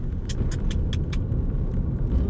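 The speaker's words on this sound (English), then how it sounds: "oh you naughty silver car" A car passes by on the road with a steady low rumble close by, along with a few light metallic jingles like keys.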